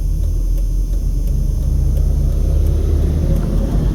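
Steady road traffic heavy with semi trucks on a Las Vegas street near Lamb Boulevard, a loud continuous low rumble of engines and tires heard from inside a vehicle, with no one speaking.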